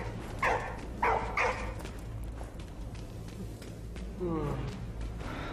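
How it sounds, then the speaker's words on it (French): Dog barking inside the video game Soldats Inconnus: Mémoires de la Grande Guerre, three sharp barks close together early on, then a fainter whine-like call later, over a steady game soundscape with talk in the mix. "pourquoi il aboie lui?"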